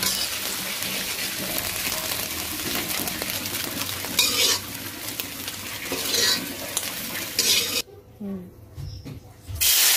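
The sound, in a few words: egg frying in a pan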